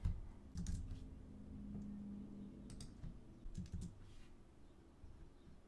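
Someone types on a computer keyboard, entering an email and password in quick, irregular bursts of soft, close clicks with short pauses between them. The room is otherwise quiet.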